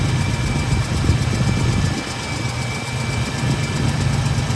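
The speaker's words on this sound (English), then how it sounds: "This is a really cool motor, runs awesome." A 1973 Ford Mustang Mach 1 Q-code 351 Cobra Jet V8 with a factory four-speed idles steadily close by, a deep, loping rumble that runs continuously with a slight dip midway and no talk.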